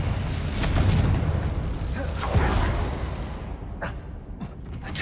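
A Confringo blasting spell explodes in Hogwarts Legacy, a loud rumbling blast with crackling debris that fades over a few seconds, a couple of sharp pops following near the end.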